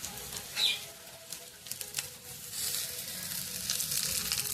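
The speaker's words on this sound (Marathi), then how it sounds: "त्यावर तेल टाकल्यात आहे, आपण एक एक अशा साईडने भाजायला ठेवायचे, मस्तपैकी भाजून घ्यायचे।" Alu vadi, rolls of colocasia leaves, shallow-fry in oil on a pan, giving a moderate sizzle with scattered spatters and a brief louder burst early on, swelling into a steadier hiss toward the end, without speech.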